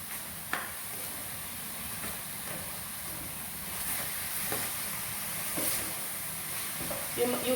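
Beef and vegetables sizzle steadily in a hot pan while being stirred, a continuous soft hiss with occasional scrapes and clicks of the utensil, fairly quiet and close.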